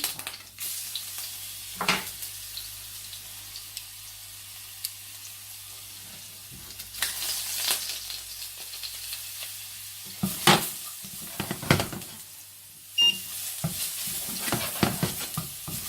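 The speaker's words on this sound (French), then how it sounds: "je vais faire revenir mon ail, dorer légèrement mon ail sans le brûler" Garlic sautéing and browning in olive oil in a pan gives a soft, continuous sizzle with scattered stirring scrapes and clinks growing busier toward the end, heard close with no voices.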